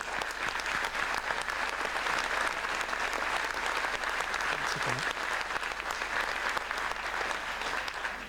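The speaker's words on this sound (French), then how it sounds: "Je vous demande d'applaudir." Audience applause at a New Year wishes ceremony in a French town hall, even and continuous clapping from a seated crowd heard close and steady for about eight seconds.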